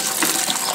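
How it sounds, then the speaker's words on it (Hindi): Water is poured from above over ducks, a brief continuous splashing gush with no voices. "दोस्तों ये पानी डालते हैं ऊपर से ही"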